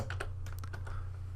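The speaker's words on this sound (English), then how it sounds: "I know the one I want, so I can start typing the font name." Quick keystrokes on a computer keyboard as a font name, Arial Black, is typed, a close run of light clicks over a steady low electrical hum with no talking.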